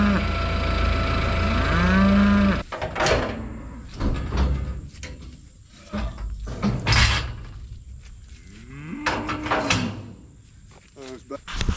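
Cows in a pasture give long, low moos, one close and loud at the start and another later, amid footsteps, rustling and someone talking.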